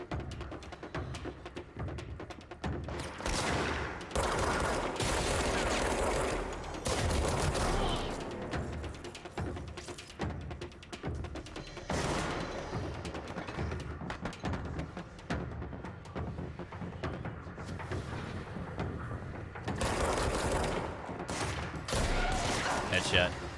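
Gunfire in the video game Control comes in dense, loud bursts of rapid shots with booming impacts and short lulls between volleys, and a voice talks under the shooting at times.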